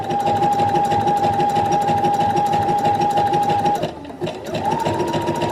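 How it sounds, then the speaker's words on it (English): A sewing machine runs steadily, stitching elastic down a bra strap, a loud continuous mechanical whir that stops briefly near the end and then starts up again. "we've sewn this outside elastic down the strap, around the armhole and towards the back of the bra"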